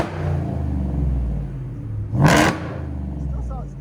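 Supercharged Ford F-150 pickup with a 5.0L V8, headers and Black Widow Race Venom exhaust, revving in a short burst with a deep rumbling idle before and after, under people talking nearby.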